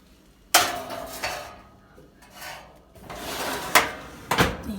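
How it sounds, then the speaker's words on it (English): A pan topped for chicken bruschetta goes under an oven broiler with a sharp metal clank, followed by a scraping slide and several more knocks and bangs of metal and the oven door over a few seconds. "And put it in the broiler."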